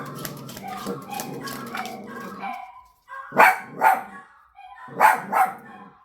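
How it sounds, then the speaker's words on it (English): Dogs at a house barking at a passerby, a few sharp close barks in two quick pairs after a stretch of talk at the start. "The doggies have gotten that out of their system. Anytime somebody walks by the house,"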